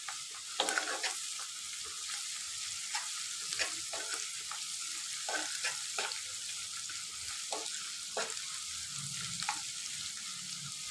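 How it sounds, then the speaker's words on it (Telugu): Ginger paste and turmeric fry in a little oil with a soft, steady sizzle, broken by repeated sharp scrapes and taps of a spoon stirring in the pan, close and without talk. "ఇప్పుడు ఈ రెండు కొంచెము ఆయిల్లో అయితే ఫ్రై చేసుకోవాలి, ఒక 2 మినిట్స్."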